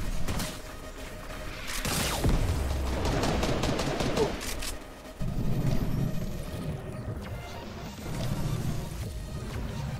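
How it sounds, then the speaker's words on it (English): Dense Fortnite gunfire in a duos match: sustained bursts and rapid repeated shots, loud and close, with brief lulls around the middle and the firing picking back up. "I'm being shot at."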